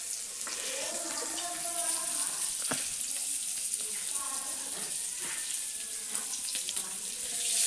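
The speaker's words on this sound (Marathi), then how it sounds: "आता व्यवस्थित भाजेपर्यंत ठेवायचे तेलात." Bangda mackerel coated in semolina fries in oil on a wood-fired chulha stove in a Konkan kitchen. It gives a steady, dense crackling sizzle throughout, with small pops rising and falling.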